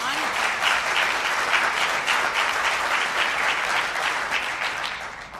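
Audience applause at a Liberal caucus retreat press conference, a steady dense clapping wash that holds strong for several seconds and tapers slightly at the end.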